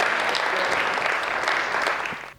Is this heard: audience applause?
yes